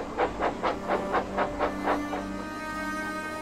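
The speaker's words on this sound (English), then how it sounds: "As soon as the other train passed" Rhythmic puffing chuffs from a passing model railway train, about eight evenly spaced bursts, fairly faint, fading into a steady hiss.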